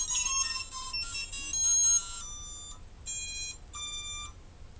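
Loud electronic lost-model buzzer on an FPV drone beeping in sustained bursts, a long continuous tone then two shorter pulses, high-pitched and close.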